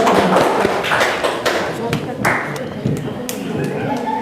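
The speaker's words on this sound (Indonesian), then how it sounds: "beri aplaus untuk kelompok 3" Classroom applause for a student group, a short burst of scattered hand claps and taps that is loud at first then thins into sparse claps, with voices talking over it.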